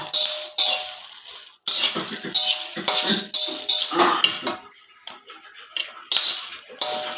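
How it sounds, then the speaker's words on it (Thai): A utensil repeatedly scraping and tossing chili paste ingredients, for pork chili paste, in a dry pan while they roast. Close clattery strokes come in an irregular rhythm, with short gaps between them. "คั่วให้ออกดำๆก็ไม่เป็นไรนะคะ คั่วไปเลยจ้า"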